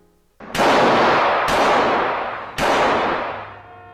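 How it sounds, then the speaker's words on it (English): Police gunfire from the film Chinatown: three loud, booming shots, each with a long echoing decay into the next. The shots come about a second apart and nobody speaks. "When she tries to escape, the cops start firing."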